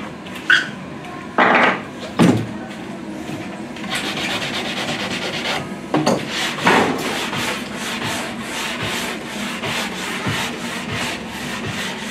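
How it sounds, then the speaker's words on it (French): Stiff brush scrubbing the freshly waxed base of a snowboard or ski at Isola 2000: a few sharp separate strokes, then a steady run of close, rhythmic scratchy brushing. "on va mettre maintenant un petit coup de brosse"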